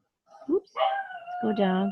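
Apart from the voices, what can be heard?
dog barking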